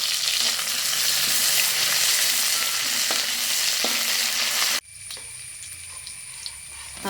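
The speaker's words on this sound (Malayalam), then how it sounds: "ഇനി നമ്മൾ കുറച്ച് കരിവേപ്പിലയും മുളകും ഇട്ട് കൊടുക്കാം." Ginger, chopped garlic, curry leaves and chili sizzle loudly in hot oil in a pan while cooking a mushroom curry, a steady dense frying hiss that cuts off abruptly partway, leaving a quieter background with faint running water.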